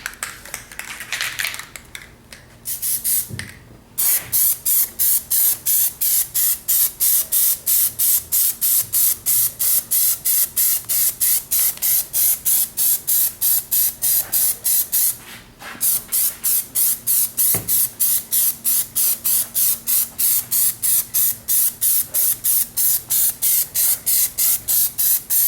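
Plasti Dip coating sprayed from a can onto motorcycle parts: a loud, close aerosol hiss in rapid, evenly spaced short bursts, with one brief pause partway through.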